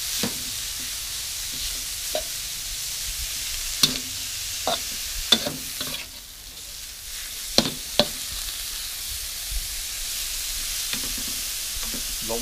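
Beef with holy basil being stir-fried in a pan, a steady low sizzle broken by sharp scraping and clanking strokes of a spatula at irregular intervals, close and fairly loud with no talking.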